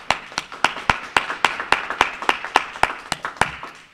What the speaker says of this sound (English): I think we want to just give them a round of applause for what they're doing too.